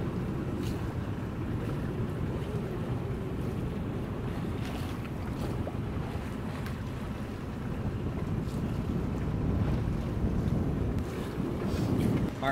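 A sailboat moves under sail with the mainsail up and the engine in neutral, producing a steady rushing blend of wind buffeting and water washing along the hull, continuous and fairly loud throughout with no talk.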